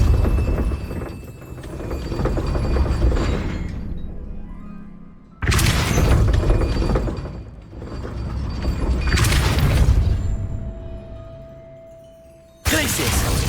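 Depulso spell impacts in the Hogwarts Legacy video game land as three loud, sudden blasts at irregular intervals over a steady rumbling game soundscape.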